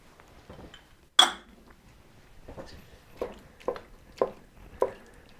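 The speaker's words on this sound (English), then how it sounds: "And now just mixing breaking up that cream cheese so it's going to melt, and mixing it in with the shrimp." Cream cheese being broken up and stirred into shrimp in a pan for a creamy fusilli sauce, heard as a handful of separate clinks and scrapes of a utensil against the pan, fairly close and moderately loud, with no talking.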